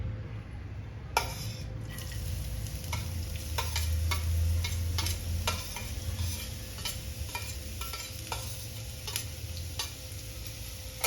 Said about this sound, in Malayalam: ചൂടായിട്ട് ഇനി അതിലേക്ക് ഒരു മീഡിയം സൈസ് സവാള ചെറുതായി അരിഞ്ഞതും 2 പച്ചമുളക് അരിഞ്ഞതും ഇട്ട് കൊടുക്കാം.